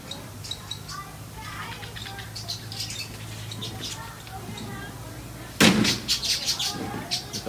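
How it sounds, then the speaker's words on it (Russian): Many small yellow birds in a zoo enclosure twitter in quick, scattered chirps over a low ambient hum. A louder burst of close activity comes in near the end. "Это огромное количество каких-то красивых желтых птичек,"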